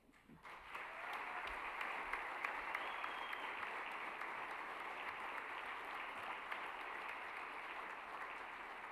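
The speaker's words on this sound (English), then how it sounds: "That deserves a major applause." An audience at an honors banquet gives a sustained, even round of applause that starts abruptly and holds steady, heard at a moderate distance without speech.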